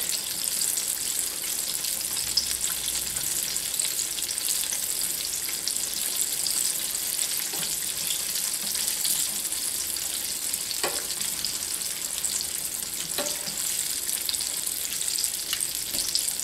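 Chicken Kiev, pressed thin, fries in a pan with a continuous, even, close sizzle. A few light clicks and a faint watery hiss run underneath the sizzle for the whole stretch.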